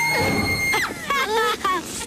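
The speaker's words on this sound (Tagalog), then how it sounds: "Unan lang yan na sumisigaw." A screaming pillow lets out a high, wavering shriek amid a cartoon scene, the squeal rising and bending in pitch over music and voices, loud and up close.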